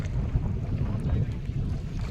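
Gusty storm wind buffets the microphone over rough waves on the Garal river near a three-river confluence, a dense low roar from aboard a small rocking fishing boat with no talking.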